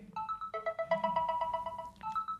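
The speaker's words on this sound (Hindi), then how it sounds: "अगर आप इस पर टैप करते हो तो आपका फोन अगर साइलेंट पे भी होगा तो आपके फोन में रिंग बजेगी" A smartwatch's Find My Phone function sets a phone ringing: a bright, repeating melodic ringtone pattern plays up close and clearly, cycling through a few tonal phrases with no speech over it.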